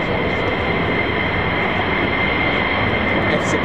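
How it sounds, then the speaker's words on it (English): Rumbling F-16 jet turbofan engines give a loud, steady, broadband roar that holds unbroken and fairly close throughout, with no talk over it. "All I can hear is rumbling, beautiful turbo fans."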